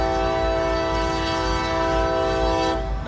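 A loud CSX SD40-2 diesel locomotive horn sounds one long, steady chord for a few seconds, then begins to trail off.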